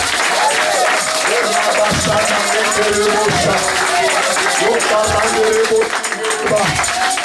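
A church congregation at a convention claps and cheers in sustained, loud applause to acclaim Jesus, with voices raised throughout the crowd.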